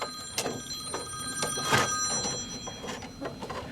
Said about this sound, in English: How come every time I get on YouTube, the phone rings?